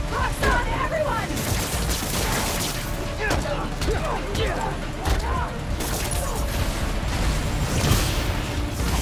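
Dense bursts of gunfire and scattered explosions from Marvel's Spider-Man: Miles Morales, steady and busy throughout, with some mechanical clatter mixed in.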